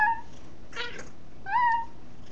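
A house cat meows twice, a short call at the start and a longer rising one later, close to the mic over a quiet room with a brief soft rustle between the two calls.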